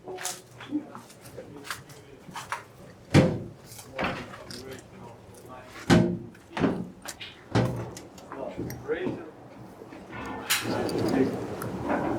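Heavy clunks and scrapes of a big red door moving and closing inside Chernobyl, with several loud thuds, and people talking around them.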